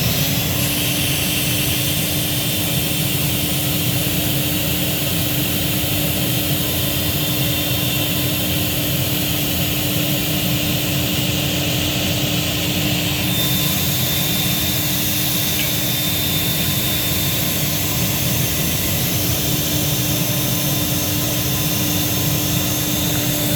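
A Silver King 73B2 vacuum cleaner runs with no hose attached during an airflow test, giving a loud, steady whine and roar that holds unbroken throughout, with a slight shift in tone partway.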